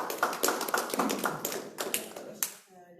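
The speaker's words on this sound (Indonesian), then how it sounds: "tepuk tangan." A short burst of hand clapping from a group at a community mentoring session, sharp irregular claps for about two and a half seconds before a voice starts speaking.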